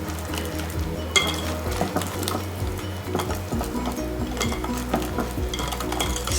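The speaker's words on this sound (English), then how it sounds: "So mix it really well so there's no lumps." Vegan chocolate cake batter being stirred in a bowl, a steady, close wet churning with repeated soft knocks and clinks of the utensil against the side.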